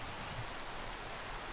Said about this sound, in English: I'm only fishing when it's pouring down.